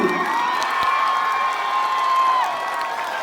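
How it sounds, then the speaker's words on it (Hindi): A crowd at a Republic Day function cheers and claps continuously, with bright whoops and whistles riding over steady applause at a lively, loud level. "आप लोग तालियां बजाते रहे,"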